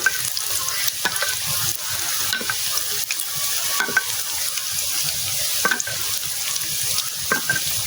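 Thin potato slices frying in hot oil in a wok, a steady broadband sizzle with scattered sharp crackles and pops and occasional scraping stirs, close and continuous with no talking.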